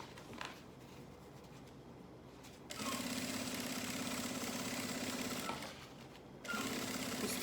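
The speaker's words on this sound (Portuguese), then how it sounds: "Eu dobro ela pra costurar só a parte do bolso, só o corte do bolso." Sewing machine stitching the inner lining around a pocket cut, faint and close, running in two steady bursts of rapid stitching with quieter pauses between.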